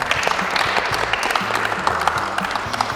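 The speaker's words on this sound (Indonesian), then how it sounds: "Boleh kita berikan tepuk tangan yang luar biasa?" Audience applause at an Indonesian palm oil discussion event, a steady crowd of clapping throughout with a low tonal hum running beneath it.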